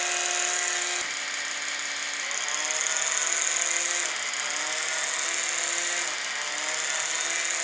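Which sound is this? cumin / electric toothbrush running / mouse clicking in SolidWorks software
electric toothbrush running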